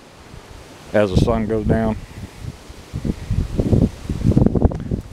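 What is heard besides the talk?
strong wind blowing at a lakeside park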